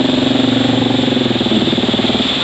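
A Honda XR650L motorcycle engine running with a fault, loud and close, with a steady rough idle and a rhythmic uneven knocking pulse, alone without talk.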